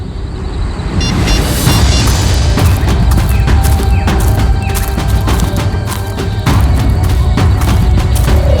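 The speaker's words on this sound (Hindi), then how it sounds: "ये पटाखों की आवाज नहीं, कोई गोली बरसा रहा है।" Gunfire in a staged crime drama inside a school: rapid, sharp bursts of shots crackle repeatedly and loudly over a dense rumbling background for several seconds.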